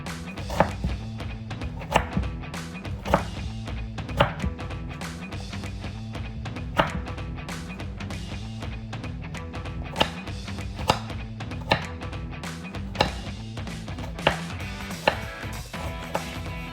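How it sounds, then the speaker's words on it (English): A knife chops a potato into pieces on a board at home, making steady, evenly spaced chops about once a second under continuous background music. "So I just want a little bit slice of potato, and I'll chop this into pieces."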